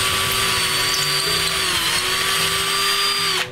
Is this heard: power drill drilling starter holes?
yes